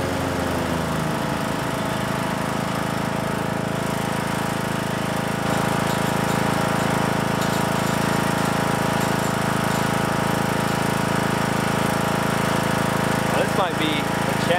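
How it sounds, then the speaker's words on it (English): Lawn tractor running in an overgrown garden area with tall grass, a steady droning engine with a rough mechanical buzz and a brief squeal near the end, with someone talking over it. "But would this area be too much and too tall for the lawn tractor too?"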